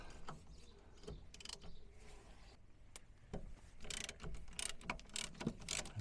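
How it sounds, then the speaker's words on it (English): A ratchet with a 17mm socket loosens a front gearbox mount bolt on a VW T25 Vanagon, making faint, quick clicking bursts and metallic clinks at close range. "and take the bolt out through the middle."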